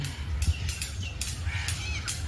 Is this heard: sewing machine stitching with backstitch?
no